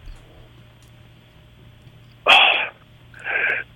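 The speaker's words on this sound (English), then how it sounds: "I got to sneeze" A man sitting outside sneezes twice in quick succession, a sharp loud burst followed by a second, shorter one over quiet outdoor background hum.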